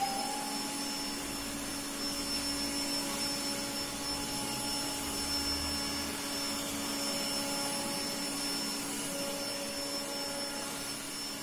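A Yeedi 2 Hybrid robot vacuum running in turbo mode gives a steady, loud whine and rushing hum with constant tonal pitches, close by and unbroken throughout, with no one speaking.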